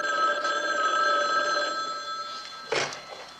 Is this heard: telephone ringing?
yes